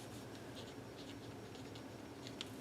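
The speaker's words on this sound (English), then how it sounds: "a slick writer will definitely" A slick writer pen scratches across smooth vellum in short strokes, a faint, close scribbling with light ticks, quiet and steady with no voices.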